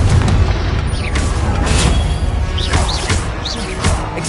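Confringo blasting spells from Hogwarts Legacy explode in a loud, continuous run of booming blasts and crashes, with several sharp bursts and rising whooshing tails layered over dense rumbling game sound.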